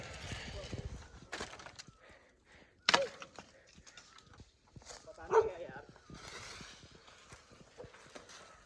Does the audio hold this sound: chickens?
no